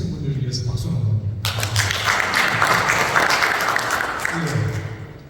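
An audience at a seminar on Amazon selling and exporting breaks into applause, a dense wash of clapping lasting a few seconds with a voice talking before and after it.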